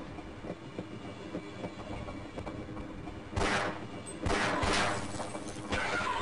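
A train in Half-Life rumbles along with rhythmic clatter and metallic clanks, growing louder with harsh crashing bursts in the last few seconds.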